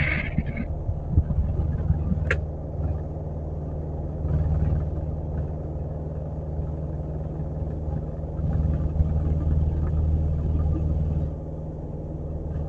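Light aircraft engine held at full throttle through a night takeoff roll at Lanseria International, a steady loud droning rumble with brief swells, no talk over it.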